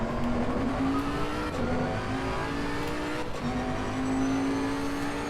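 A race car engine drones steadily in Assetto Corsa Competizione, its pitch rising and dipping slightly through gear changes and corners, loud and close with no talking.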